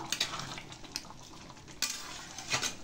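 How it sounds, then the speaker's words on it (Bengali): Chana masala with minced keema being stirred in a pan after ghee is added, with a soft ongoing sizzle and scattered scraping clinks of a spoon against the pot, fairly quiet and with no talking. "আর একটু ঘি দেব, একটু নাড়াচাড়া করে দেবো।"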